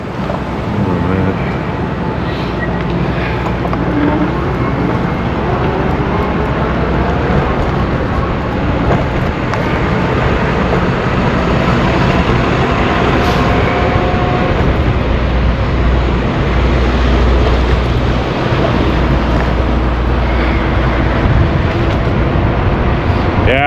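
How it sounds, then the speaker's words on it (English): Strong headwind buffets a cyclist riding through a windy downtown Toronto street corridor, a steady loud roar of wind noise filling the whole stretch without a break. "it's a wind tunnel through here, so I'm going against the headwind right now"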